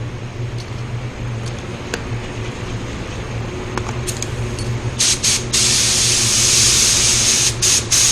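A loud, steady hiss of compressed air blasting from a nozzle comes in bursts, blowing out the inside of a part before spraying sealer, with scattered clicks and faint hum beforehand.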